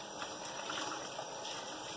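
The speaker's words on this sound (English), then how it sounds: "And then I like to rinse it under the water and just try and squeeze it as much as I can" Running water pours steadily over a harvested luffa gourd as it is rinsed and squeezed, a constant close rush with no voices.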